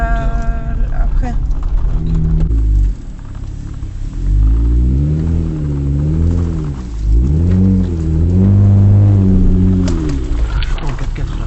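A 4x4 vehicle driving along a rough track on a remote Indonesian island in Sulawesi, its engine loud and near, revving up and down repeatedly with a rumbling, labouring tone over several seconds.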